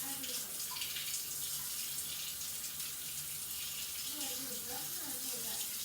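Hot water running steadily from a kitchen tap while potato soup is being made, a continuous hissing flow heard close, with a person speaking quietly at times.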